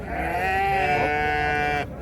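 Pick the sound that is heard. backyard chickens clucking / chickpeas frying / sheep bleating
sheep bleating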